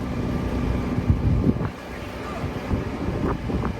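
Wind gusting outdoors during a paint job on a 1984 C20 pickup, a steady rumbling roar against the microphone with a few brief swells, loud and close, with no voices.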